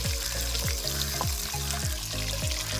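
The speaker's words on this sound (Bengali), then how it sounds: "পেঁয়াজটাকে নেড়ে নেওয়া হবে" Onions fry in a pan while being stirred, a continuous sizzle under repeated rhythmic scraping strokes of the spatula, roughly one every third of a second, close and without talk.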